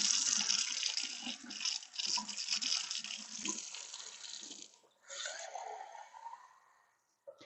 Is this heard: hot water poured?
yes